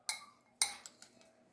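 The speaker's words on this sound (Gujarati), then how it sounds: "અને આ સલાડને આપણે મિક્સ કરી દઈશું." A spoon mixes a salad of raw mango and coriander in a bowl, giving two sharp clinks followed by a few quicker, softer taps that fade out, close and alone.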